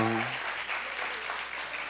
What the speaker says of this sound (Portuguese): Levanta aí para todo mundo aplaudir, levanta, levanta, vamos aplaudir!